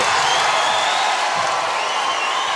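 Basketball arena crowd at a Gonzaga vs Illinois game roaring and cheering after a three-pointer, a dense, loud, sustained wall of crowd noise with no break.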